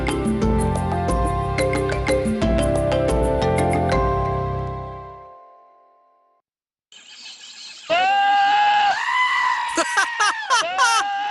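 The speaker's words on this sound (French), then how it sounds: "Reçois ces chèvres qui hurlent directement sur ton mobile." Music fades out, then a screaming-goat ringtone plays, with loud, harsh goat screams repeating close up.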